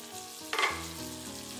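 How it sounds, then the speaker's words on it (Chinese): Crabs dusted with cornstarch frying in a covered pan: a steady, soft sizzle that swells suddenly into a louder crackle for a moment, then settles back to an even fry. "加点生粉给它煎一下，可以封住口，这样蟹黄就不会跑出来，给它扣上盖子煎至定型。"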